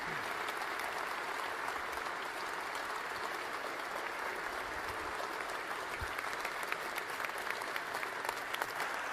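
A hall audience at the Reagan defense forum applauds Defense Secretary James Mattis, an even, continuous patter of many hands heard from some distance, fairly soft and unbroken throughout.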